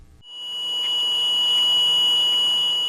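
An engine protection system alarm on a Snorkel TB37 or TB85J telescopic boom lift sounds as one loud, continuous high-pitched electronic tone that starts abruptly and holds steady for nearly three seconds.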